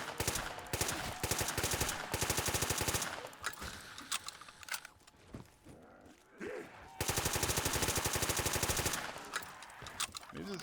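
Bursts of rapid automatic gunfire from a Call of Duty custom zombies map, long loud volleys separated by short quieter gaps with scattered single shots.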